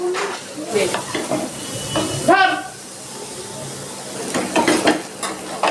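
Chopped onions fry in a pan for pumpkin bhaja, with scattered stirring scrapes and a soft sizzle, one brief clatter of utensil on metal midway.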